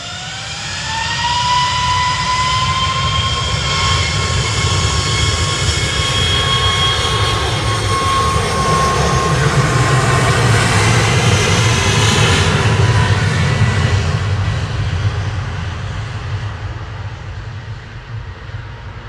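A Boeing 737 MAX 8 departs Manchester Airport, its jet engines building to a loud sustained roar with a rising whine, holding strong before fading as the aircraft climbs away.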